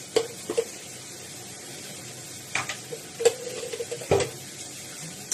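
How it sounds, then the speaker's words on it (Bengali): Soya chunks with spices are stirred and fried in a pan, a soft steady sizzle with scattered scrapes and knocks of a spoon against the metal. "সব কিছু দিয়ে আমি ভালো করে নাড়াচাড়া করে ভাজতে থাকবো।"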